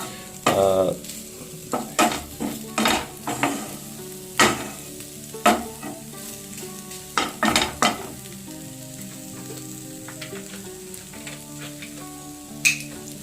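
Chicken being stirred in a low-oil pan for a South Indian style curry, with a series of scraping, clattering strokes of a spatula over a steady sizzling frying noise, nearer and louder in the first half and then quieter.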